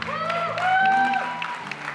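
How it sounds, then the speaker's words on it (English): Wedding reception guests on a dance floor clap and cheer while a love song with a singing voice plays loudly over them. "Big round of applause on the dance floor."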